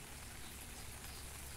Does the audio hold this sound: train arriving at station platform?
no